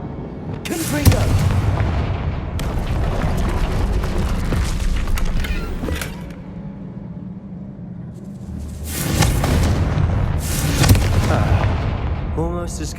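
Confringo blasting spells explode in the Hogwarts Legacy video game, a heavy booming blast near the start, another around the middle and two more late, each with a rumbling tail over steady background noise.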